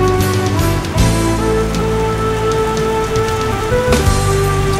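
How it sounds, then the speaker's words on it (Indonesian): Heavy rain pours down at an airport in the Batam area, a loud, steady roar of drops drumming on surfaces for the whole stretch, with a low tonal hum running underneath. "Cukup deras hujan di bandara."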